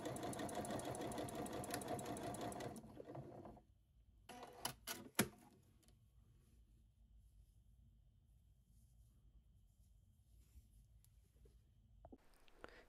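A sewing machine runs a fast, steady mechanical whir as it topstitches a dress sleeve hem with a zigzag stitch. After about three seconds it stops, leaving a few clicks and a faint handling noise, then near silence.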